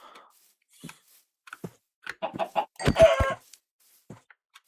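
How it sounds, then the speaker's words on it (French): A chicken in the Minecraft video game clucks in a short burst of several quick, fairly close calls. Quiet gaps come before and after, with no talk over it. "Viens là, le poulet."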